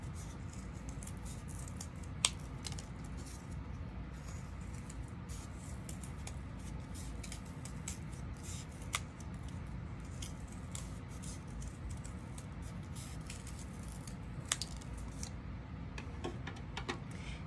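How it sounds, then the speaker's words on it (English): Paper circles for carriage wheels cut out with scissors, a long run of quiet, close snipping and small ticking clicks over soft steady background noise, with occasional sharper snips and no clear talk. "Now that we've cut out those four circles, we're ready for the next step."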